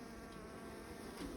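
Bees buzz in a dense, steady drone around a heavy hive frame with drawn and burr comb, faint and continuous through the short moment.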